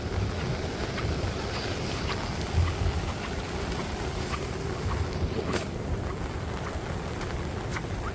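Floodwater of the swollen Indrayani river rushes past a bridge as a steady, loud broadband roar, continuous and dense throughout with wind buffeting the microphone.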